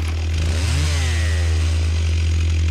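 A chainsaw engine runs loud and close, a sustained low buzzing drone with a brief rising rev near the start, heard alone with no voices.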